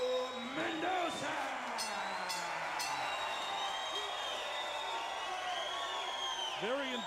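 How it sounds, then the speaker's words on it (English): Boxing event crowd roaring with whoops and shouts for a fighter being introduced, a dense, steady wall of noise with individual yells rising above it throughout. "Very enthusiastic crowd,"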